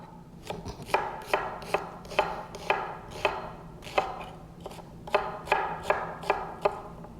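A knife chops steadily through onions on a cutting board, about a dozen crisp, evenly spaced thuds in a row, close and clear with no talking.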